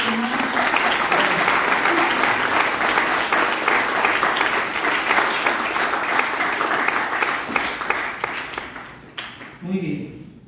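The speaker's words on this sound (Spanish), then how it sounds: "Le damos un aplauso al Señor fuerte, hermano." A church congregation in Bern claps loudly and steadily for about nine seconds, a thick wash of hands that fades at the end as a voice briefly comes in.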